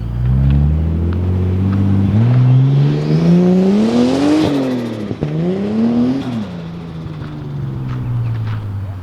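Nissan Skyline R31 driving with its underside scraping: the engine drones loudly up close, revving up through the gears with a rising whine, then easing back down, with a brief scrape or knock in the middle.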